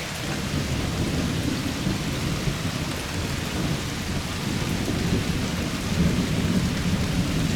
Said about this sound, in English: I've been up since like 4 a.m. with this ideal rain and thunder for sleeping.